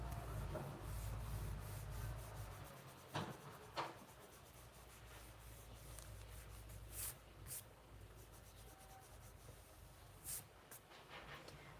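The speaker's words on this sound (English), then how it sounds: "I'll just rub this out." An eraser rubs out a pencil drawing for a horror comic, a faint, close scratchy rubbing in repeated strokes over a low background hum, with a few light taps and brushing sounds.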